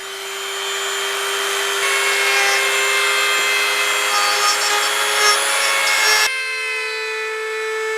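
Grooves being cut into a cracked steering wheel for an epoxy putty repair: a steady, continuous grinding rasp with a faint whine runs for about six seconds, then cuts off abruptly, leaving a quieter background hum.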